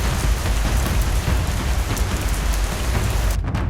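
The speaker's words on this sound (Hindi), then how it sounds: "बारिश इतनी तेज थी कि जैसे आसमान से पानी के बड़े बड़े टप गिर रहे" Heavy rain pours down steadily as a dense, loud hiss, with no break or voice until it cuts off abruptly at the end.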